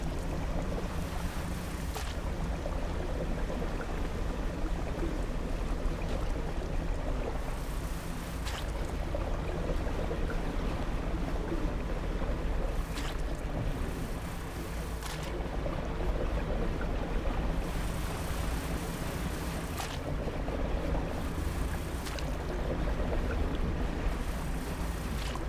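The fishing boat's engine in the eldritch fishing game DREDGE runs at a steady drone with wind and wave wash, joined by periodic brief swells and splashes, with no one talking over it.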